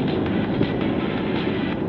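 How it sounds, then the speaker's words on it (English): Train ride in the video game Splatoon 3 Side Order: a steady, dense rolling rumble of the moving carriage with a faint rhythmic clatter, continuous and without talk. "I fell asleep on the train, that's cute."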